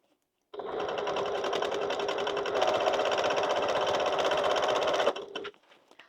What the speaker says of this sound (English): So we're just going to go along the bottom.